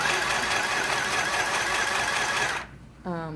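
A sewing machine stitches a fabric tote bag in a steady whirring run that stops abruptly near the end, after which a voice begins speaking.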